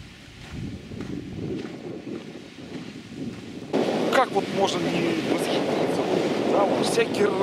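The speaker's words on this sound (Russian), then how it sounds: "Всякий раз, когда ты приезжаешь, вот подходишь первый раз к озеру, волна идет такая" Waves of Lake Issyk-Kul washing over a stony shore, a steady surf noise mixed with wind buffeting the microphone, growing louder and rougher partway through.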